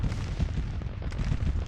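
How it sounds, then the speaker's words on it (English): Booms of 12-pound Napoleon cannons firing in the Civil War strategy game Grand Tactician, a dense rumble of low, repeated blasts rolling together at steady loudness with no voices. "12-pound Napoleons. Boom."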